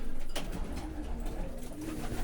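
Soft pigeon cooing, low and murmuring, heard faintly against a quiet background.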